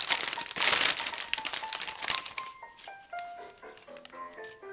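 A plastic bag crinkles loudly up close as pork marinade is poured into it, with dense rustling bursts that thin out into lighter, scattered crackles.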